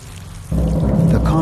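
Steady rain falling on the exposed concrete frame of an abandoned city office tower, a dense broadband hiss that swells louder about halfway through and then pours on without a break.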